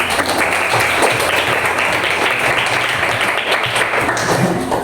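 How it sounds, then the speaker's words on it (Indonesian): Applause fills a school classroom for a student, dense and steady throughout, with a murmur of voices mixed into the clapping. "Tepuk tangan untuk Amruna."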